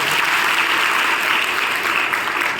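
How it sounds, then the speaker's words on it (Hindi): Audience applause in a college hall at Arya Kanya Mahavidyalaya, a dense, even wash of many hands clapping throughout, fairly loud and without talk. "तालियां कौन बजाएगा?"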